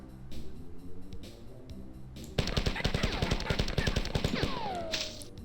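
A rapid burst of close, loud gunfire from Bungie's first-person shooter Marathon cuts down a trooper, the shots hammering in quick succession for a couple of seconds before a falling tone trails off.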